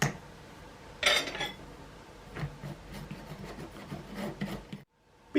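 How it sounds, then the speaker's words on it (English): Baking powder sifted into flour for a plantain and Brazil nut loaf, soft raspy rubbing and light scratchy shakes in short bursts, quiet and close, ending in a brief silence. "Sift the baking powder into the flour."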